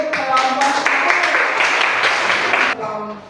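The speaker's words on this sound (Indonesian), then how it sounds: "Ya, tepuk tangan untuk kelompok" Classroom audience claps for a student group after its presentation on photosynthesis, a dense burst of clapping that swells and then cuts off, with voices faintly mixed in.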